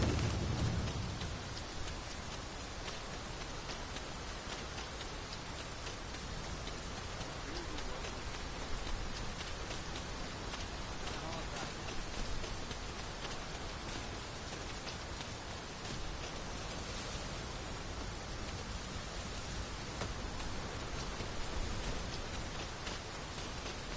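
Heavy rain pours down steadily in the fantasy game Dragon's Dogma 2, a dense, loud, continuous hiss with no breaks across the whole stretch and no voices over it.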